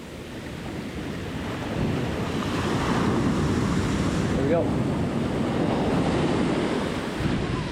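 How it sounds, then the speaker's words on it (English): Ocean surf at Newport Beach rolls in with a steady, loud wash of breaking waves and wind buffeting the microphone, with a brief spoken remark partway through. "these waves are rolling up on my rod holder"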